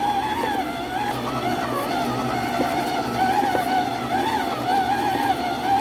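Home stand mixer beating powdered milk and condensed milk cookie dough, a continuous wavering motor whine with the pitch dipping and rising as the beaters labor through the dough.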